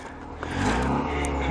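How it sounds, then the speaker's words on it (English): A stock, non-turbo 2003 Mazda Protégé engine revs up close by, the sound rising and holding in one short burst. "Go ahead, give us a little revs there, Kyler."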